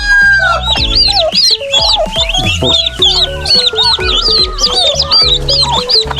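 Pet chickens, ducks and turkeys cluck, squawk and crow together in a busy, loud chorus, with overlapping calls and repeated rhythmic clucks close by.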